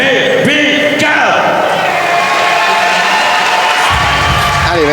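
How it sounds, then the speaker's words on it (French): A large crowd at an S1 World Championship fight night roars and cheers loudly and continuously as Thai fighter Petphikat is introduced, with an announcer's voice calling out over the din. "Sous applaudissements, le Thaïlandais Pepitkat."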